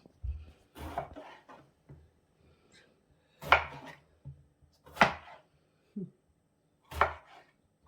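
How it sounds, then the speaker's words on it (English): A knife chops Chinese eggplant into chunks on a cutting board, giving five or six sharp, close knocks spaced a second or so apart, with quiet handling noises between them. "Yeah, cut it up in chunks."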